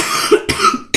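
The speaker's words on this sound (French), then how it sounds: "Je tousse encore." A person gives three sharp coughs in quick succession during a spoken French-language session, close and fairly loud.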